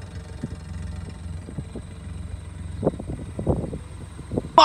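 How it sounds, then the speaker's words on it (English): A Suzuki engine works up steep slopes in a paddock, a faint, uneven hum broken by short revving bursts that grow stronger toward the end. "Mighty Suzuki taking on the sharp angles."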